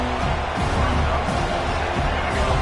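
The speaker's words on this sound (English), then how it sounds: "This crowd is trying to inspire this defense to make a big red zone stop" Stadium crowd in the College Football 26 video game roars steadily as the defense tries for a red zone stop, a dense, continuous wash of noise with no clear individual voices.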